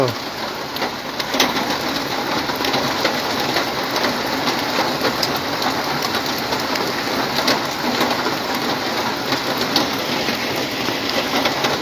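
Dense rain pours down in Comilla, heard as a continuous loud hiss from inside a room, with a few faint bird calls in the background.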